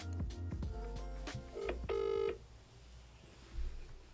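Outgoing phone call to a plumbing business's AI voice line: a quick series of dialing tones and beeps, then a loud, steady electronic ringback burst, followed by quieter line noise and a short final click, with no talking.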